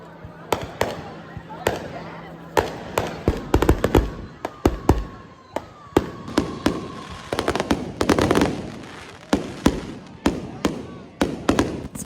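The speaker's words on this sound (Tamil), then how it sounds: "சாப்பிட்டு முடிச்சதுக்கப்புறம் ஃபயர் ஒர்க்கும் ஸ்டார்ட் ஆயிடுச்சு." Fireworks go off during a Diwali celebration at a temple, with scattered sharp cracks and bangs, some near and some farther off, over a murmur of crowd voices.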